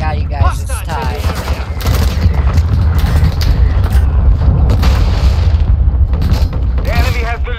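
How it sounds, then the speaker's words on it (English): Mortar strike explosions in Call of Duty: Modern Warfare 2 Warzone pound as a loud, continuous barrage of deep rumbling booms and blasts, with brief voices at the start and end. "Hostile mortar strike near your position."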